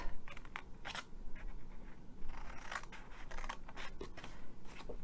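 Scissors snip through paper pieces for a slider box, a close run of quick crisp cuts in irregular bursts with short pauses between, no voices.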